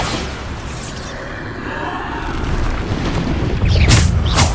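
A heavy Bombarda blast spell booms in Hogwarts Legacy, a sustained low rumbling roar that swells toward the end with a sharper burst, loud and close with no talk over it.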